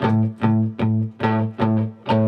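An electric guitar plays a lick through a bass-boost distortion pedal: six loud, thick, buzzing notes struck one after another in a steady rhythm, each ringing and sustaining before the next, close and with no voices.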